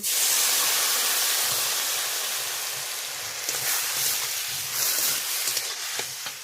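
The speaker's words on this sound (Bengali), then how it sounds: "কুচনো আলু দিয়ে দিচ্ছি ভিজিয়ে রাখা ডাল" Soaked lentils and chopped potato hitting a hot pan, giving a loud, steady broadband sizzle that eases slightly and then continues with small crackling bursts, with no voices.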